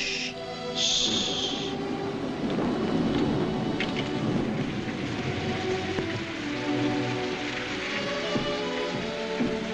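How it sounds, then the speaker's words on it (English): Steady rain falling outside a house, a soft continuous hiss and patter heard from indoors, fairly quiet and unbroken, with a brief faint tonal sound near the start and no talk. "Raining quite a bit out, isn't it?"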